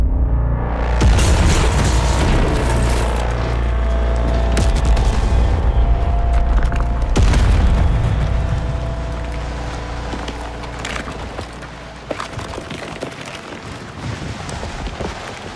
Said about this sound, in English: It was the bomb to end all bombs, and the explosion was seen across the entire star cluster.